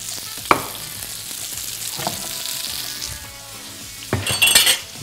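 Potato zrazy breaded in crumbs fry in a pan with a steady loud sizzle, while a spatula scrapes and clinks against the pan a few times to turn them.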